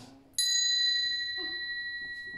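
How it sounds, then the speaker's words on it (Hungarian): A single bright ring from a small bell, its clear tone lingering and slowly fading, with faint movement noises beneath. "Megmutassam a jó cselekedetnél, hogy szól az én csengettyűm."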